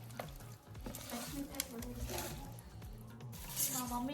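A pan of Andhra-style fish curry, chepala pulusu, is stirred steadily with a soft sizzle and scraping under ongoing talk at close range.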